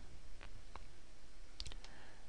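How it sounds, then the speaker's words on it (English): A computer mouse clicks a few times, with sharp isolated clicks scattered over a quiet background and a quick double click near the middle, close and crisp. "Every time I click away, nothing is happening."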